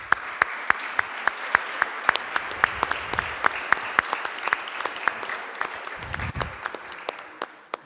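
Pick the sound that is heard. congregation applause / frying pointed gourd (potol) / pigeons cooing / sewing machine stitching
congregation applause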